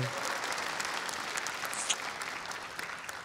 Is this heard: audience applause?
yes